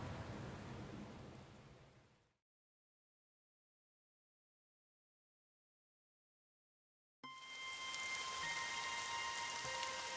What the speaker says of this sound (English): The rain poured down endlessly.